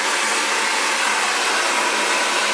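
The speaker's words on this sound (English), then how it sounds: "So effortless with this blow dryer." An Xtava Allure professional ionic ceramic hair dryer blows steadily on curly hair, a loud, even, unbroken airy whoosh close by, with no talking.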